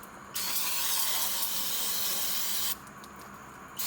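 An aerosol can of carb cleaner hisses in one steady, close spray burst of about two and a half seconds, followed by a brief second puff, near a 1976 Ford F-600 truck.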